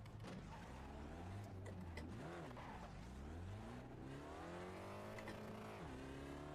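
A car engine in a racing video game revs steadily and loudly, its pitch swooping up and down through gear changes, with tire squeal mixed in.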